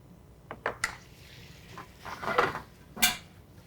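Fresh pasta tossed in a pan with butter and jumbo shrimp, giving a few soft clinks and scrapes of the pan followed by a sizzling, wet shuffle; quiet and close, with no talking.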